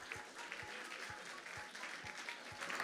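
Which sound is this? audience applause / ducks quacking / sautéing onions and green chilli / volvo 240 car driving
audience applause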